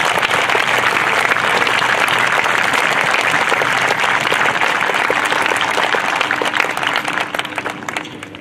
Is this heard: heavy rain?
no